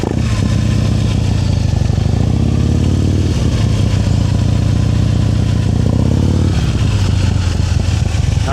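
Motorcycle engine during advanced slow-speed riding practice in Georgia, a steady loud idle-to-low-rev drone with clutch-modulated pitch shifts and clatter, near and continuous throughout.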